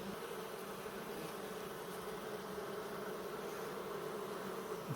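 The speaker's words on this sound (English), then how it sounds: "A lot of bees." Honey bees buzz at an opened beehive, a dense, steady hum of many insects close by, fairly quiet and continuous with no voices.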